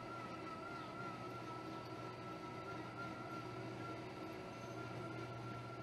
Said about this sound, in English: These tram-resembling vehicles move along tracks that run along the sides of the locks.